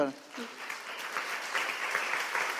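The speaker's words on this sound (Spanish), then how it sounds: "Dale un fuerte aplauso al Señor." Crowd applause at a church service swells after a brief voice at the start, steady clapping from many hands continuing at moderate distance.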